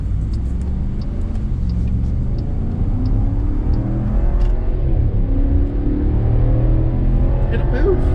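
A 2022 Wagoneer Series II full-size SUV accelerates hard to 60, its engine rumble rising steadily in pitch and building, heard from inside the cabin as a loud, continuous drone.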